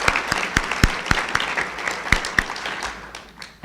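An audience claps for the lecture selection committee, a dense steady applause with sharp individual claps standing out near and far, tapering toward the end.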